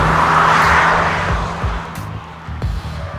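Fiat 124 Spider on a back road, engine note swelling loudly then fading as it moves away, with brief bumps and clunks, no voices.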